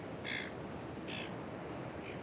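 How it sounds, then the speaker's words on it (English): Seagulls on a Gold Coast beach give a few short, harsh calls, two close together and a fainter third, over a soft, steady wash of background noise. "there's 2 seagulls there, not very happy with me scaring them away from their food"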